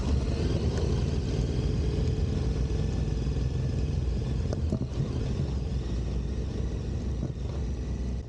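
A KTM motorcycle rides down a mountain dirt road with a continuous engine drone and some rattling clatter as it rolls over rough ground, heard close with no talk.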